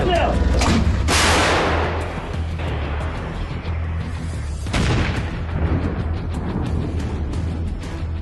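A Polish AHS Krab self-propelled howitzer fires with a heavy booming blast, followed by a long rolling rumble that echoes and fades, with a second thud later and engine drone underneath.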